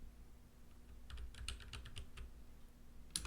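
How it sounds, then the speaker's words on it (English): Keys tapped on a computer keyboard during live coding, a quiet, brief burst of quick keystrokes close by, ending in a couple of louder clacks. "And then if I type down here"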